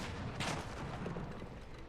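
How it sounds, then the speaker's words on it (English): A bombard cannon fires in Age of Empires IV, a single loud boom rising early and then rumbling into a dense, noisy battlefield din that continues throughout. "That is a massive frickin' cannon."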